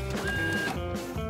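A printer running as it prints passport documents, a close steady mechanical whir with rhythmic feed clicks and tones, with no talk.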